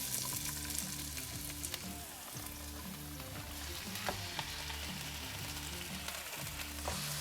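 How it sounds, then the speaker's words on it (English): Sausage and onion frying in a pan for stuffed peppers, giving a steady, loud sizzle throughout with occasional scrapes and knocks of stirring, and no voices. "we're gonna break that sausage up, let the sausage and the onion cook away"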